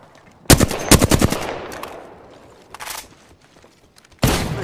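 Gunfire in the video game Apex Legends: a rapid burst of loud close shots, then scattered quieter shots and a short volley, ending with another loud burst.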